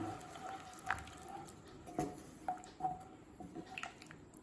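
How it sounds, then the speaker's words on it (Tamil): Soft wet squishing and a few light clinks of a utensil against a bowl while mixing ghee and other wet ingredients for modak, irregular and fairly quiet, with no talking. "இது எல்லாத்தையும் நல்லா மிக்ஸ் பண்ணிக்கலாம்."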